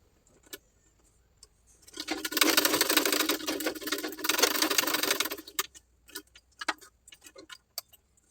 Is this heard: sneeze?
no